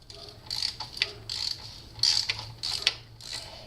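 A ratchet wrench turns a 17 millimeter bolt while removing the engine from a GS550 cafe racer motorcycle build, giving a series of close, crisp clicking bursts in uneven strokes with brief gaps between them.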